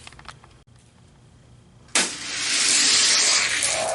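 Hot Wheels die-cast toy cars, a Chevy Camaro IROC-Z against a Ferrari, racing side by side down a track: a few faint clicks, then a sharp clack at release and a rising rolling rumble of small wheels close by.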